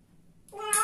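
A rescued domestic cat gives a short, rising meow during nail trimming, a strained cry that swells louder near the end after a quiet start.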